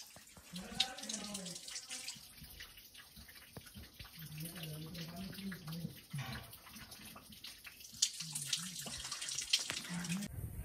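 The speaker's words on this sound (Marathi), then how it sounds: "इथं झरा चालू आहे बारीक." A thin mountain stream trickles steadily on the climb up Ratangad fort, a soft continuous water wash heard close by, with people talking over it at intervals.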